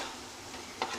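Potato pieces fry in masala in a pan, giving a steady low hiss with a brief louder scrape of stirring near the end.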